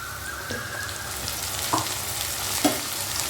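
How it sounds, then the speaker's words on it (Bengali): Reddish fried onions in a pan as a garlic, chili and cumin paste goes in, with a constant close sizzle and a few sharp clinks of a spoon against the pan. "এদিকে পেঁয়াজটাও দেখুন একটু লালচে হয়ে ভাজা হয়ে এসেছে এই অবস্থায় কিন্তু আমি যে মশলাটা রেডি করলাম সেটা এর ভেতর দিয়ে দেবো"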